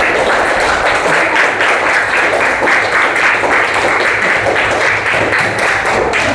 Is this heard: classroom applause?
yes